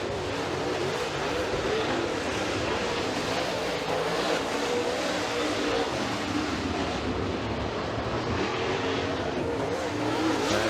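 Super late model race cars roaring around a dirt oval at Freedom Motorsports Park, a continuous loud wash of engine noise and throttle with cars passing, a commentator's voice faintly underneath.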